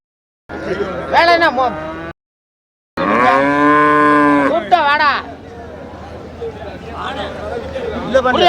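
Cattle mooing at the Manapparai cattle market, with loud drawn-out bellows up close and a long tonal moo in the middle, while people chatter and call out around them.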